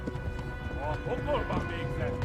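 A horse gallops in Kingdom Come: Deliverance, with a steady clip-clop of hooves running beneath a talking voice for a couple of seconds.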